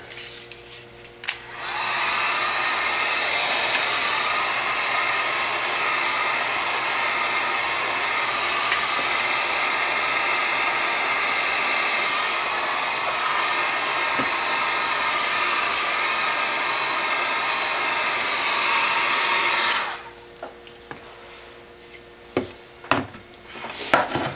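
A heat gun blows hot air onto a plastic gel holder part to flatten it, a loud, steady whooshing whine that starts abruptly, runs about eighteen seconds, then cuts off, followed by a few light handling knocks.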